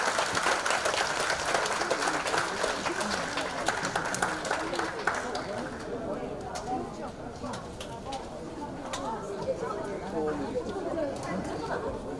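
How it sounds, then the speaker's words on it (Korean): An audience at an education forum claps warmly to welcome the speaker Kim Jin-kyung, a dense burst of applause for about six seconds that then thins into scattered claps and murmuring voices. "우리 김진경 선생님을 뜨거운 손뼉으로 모시도록 하겠습니다"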